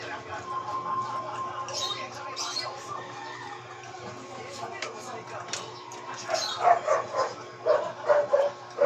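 Pet dog in a Philippine home gives short, fairly faint yips and whimpering barks, scattered and growing toward the end, mixed with people talking nearby.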